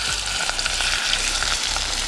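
Chicken sizzles steadily in a hot pan of grapeseed oil, a dense, continuous frying hiss with a few small pops, close and fairly loud, with no one speaking.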